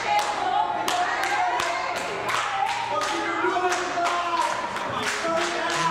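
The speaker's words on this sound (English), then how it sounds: "can be clapping now" A pro wrestler claps his hands at a D1PW wrestling show, sharp rhythmic claps repeating through the clip amid arena noise, with a commentator talking underneath.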